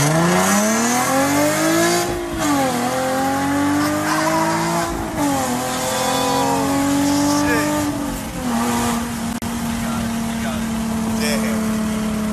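A 2.0 Honda Accord with intake and front-pipe-back exhaust races hard past a full bolt-on Nissan 350Z, engine revs rising and falling through gear changes with brief tire squeal, loud and continuous under voices.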